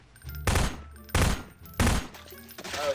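Three loud, sharp gunshot bursts fire in steady succession, each with a short blast and tail, as a player shoots in a Garry's Mod PropHunt match; a brief voice follows at the end.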